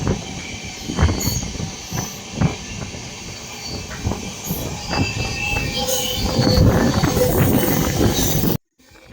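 A passenger train on the Howrah to Koraput line runs on rails near Koraput, Odisha, with heavy rumbling, rhythmic wheel clatter and screeching squeals. The noise builds steadily and then cuts off abruptly near the end.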